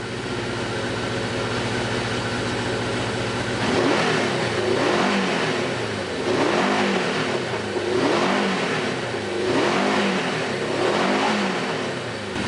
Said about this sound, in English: So I'm just trying to get it so where I can rev the engine up.